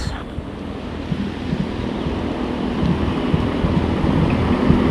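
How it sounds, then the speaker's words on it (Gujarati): Steady rain falls over a custard apple orchard on a farm, a broad, continuous hiss with gusty swells that grows slightly louder throughout. "કેવો વરસાદ છે"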